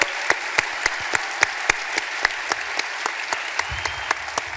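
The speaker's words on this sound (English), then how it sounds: "Another big round of applause." Audience applause at a high school sports awards ceremony in Austin, a steady wash of many hands clapping with sharp regular accents throughout, fairly loud and sustained with no talk.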